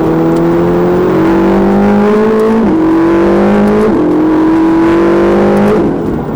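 A Ferrari 488 GTB accelerates hard on a track, its engine note climbing steadily through three gears with brief dips at each shift, loud, close and continuous with no talk.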